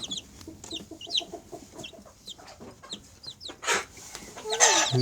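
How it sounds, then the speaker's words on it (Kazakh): Chickens clucking nearby, a busy run of short repeated clucks and squawks from several birds, with a louder flutter or scuffle toward the end. "Мынау тауық қой."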